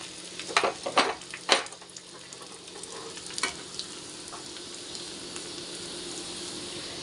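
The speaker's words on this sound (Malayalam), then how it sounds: "നമുക്ക് ചുവന്ന മുളക് ഇട്ട് കൊടുക്കാം." Red chillies frying and sizzling in a curry base in a pan, with a few sharp crackles and stirring scrapes early on, then a steady soft hiss of hot oil.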